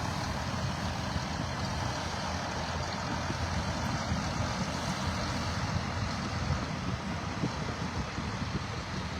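A District 5 fire truck is maneuvered into place at a house fire in Olpe, its engine giving off a steady, loud, close diesel rumble with broad road-like noise throughout and no voices.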